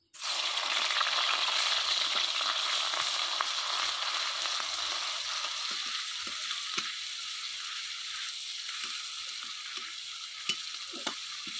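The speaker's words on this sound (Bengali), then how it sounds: "তেলটা গরম হয়ে গেছে, দিয়ে দেব জিরে আর একটা তেজপাতা। দিয়ে দেব পেঁয়াজ বাটা" Onion paste hitting hot oil with cumin seeds and a bay leaf, a loud continuous sizzle that bursts in at once and then settles into a steady frying hiss with occasional small pops and stirring scrapes.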